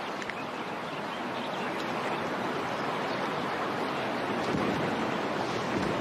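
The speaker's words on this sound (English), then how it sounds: "Another big giant gust." Strong wind gusts sweep across a golf course at the U.S. Women's Open, a steady broadband roar buffeting the microphone throughout, with no voices.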